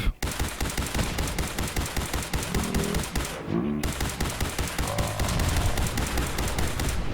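Rapid bursts of automatic gunfire from a companion character in Fallout 4, sharp repeated shots in quick rhythmic volleys, loud and continuous, with a brief pause partway through.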